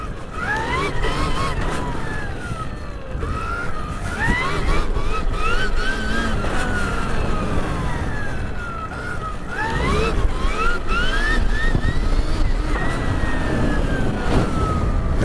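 A Stark Varg EX electric dirt bike is ridden in Normandy, its motor whining in rising and falling pitches as the rider accelerates and slows, mid-distance with rumbling wind and ground noise throughout.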